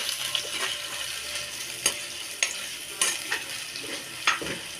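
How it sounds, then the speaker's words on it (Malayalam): Onions with green chilies and curry leaves sizzle in a clay pot as they are sautéed, a steady frying hiss broken by several sharp scrapes and knocks of a stirring spoon. "നല്ലോണം വഴറ്റിയെടുക്കാം."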